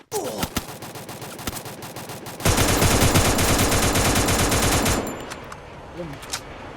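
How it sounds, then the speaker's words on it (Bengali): Automatic gunfire in the battle-royale game Free Fire during a match against bots. Scattered shots give way to a loud, sustained burst of rapid fire lasting a few seconds, which then cuts off, leaving faint echoing pops. "এটা গুলি করতেছে আমার"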